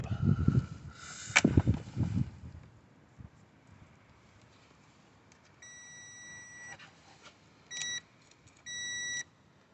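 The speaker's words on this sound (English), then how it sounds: "So the beep is indicating that it's working." Muffled handling noises give way to a quiet room, then several short electronic beeps from an electrical tester checking car power supplies, one brief and others longer, close by.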